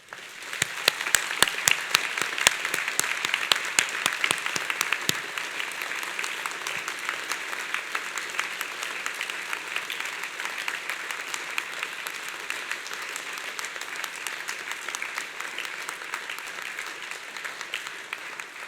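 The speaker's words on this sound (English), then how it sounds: "And let's give them a great round of applause." A large audience applauds graduates at a degree ceremony in Torquay, starting with a few sharp claps and swelling into a dense, steady round of clapping that holds at an even level to the end.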